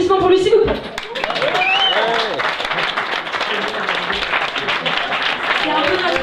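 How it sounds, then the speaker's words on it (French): An audience at a cabaret show applauds a stage crew member, dense sustained clapping with some chuckles, under a speaker talking over it through a microphone, with brief musical tones early on. "Un grand applaudissement pour lui, s'il vous plaît."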